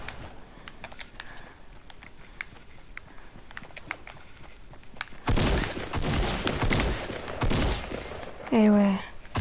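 Video game gunfire in a two-player match, a loud burst of rapid shots after a stretch of faint clicks and steps, followed by a short rising electronic tone.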